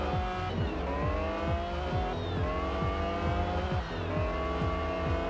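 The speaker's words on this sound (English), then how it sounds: "That turbo's spooling." A racing car engine in the video game Test Drive Unlimited revs and shifts repeatedly, with rising whines and a high turbo whistle from a mid-engined car layered over the engine.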